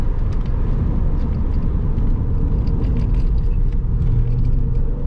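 A Porsche 996 driving twisty roads across Scotland, its engine and tyre noise a steady, close rumble throughout with no talk over it.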